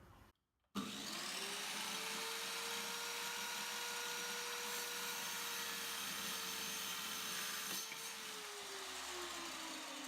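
A large power tool cuts through a plate, starting abruptly after a short quiet moment and holding a loud, steady whine for several seconds before tapering slightly near the end.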